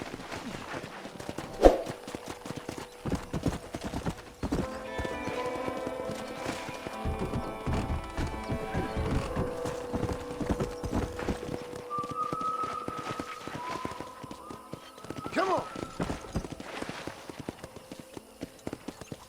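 Horse hooves clip-clopping in a steady walking rhythm while riding in the video game Red Dead Redemption, with music and other game sounds underneath, and a brief bright sound early on.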